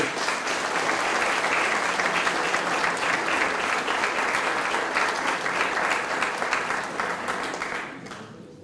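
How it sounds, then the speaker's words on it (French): A crowd claps warmly at a New Year's greetings ceremony in Pineuilh, with thick, continuous applause holding steady before tapering off near the end. "Merci pour vos applaudissements"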